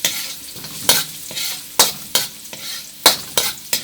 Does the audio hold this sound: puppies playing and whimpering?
no